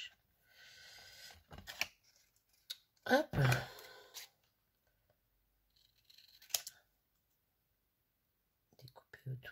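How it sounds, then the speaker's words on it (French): Scissors snipping around black paper, a few close, crisp cuts in short bursts separated by quiet gaps, with a brief spoken word and soft handling noises. "Découper autour pour faire un petit matage."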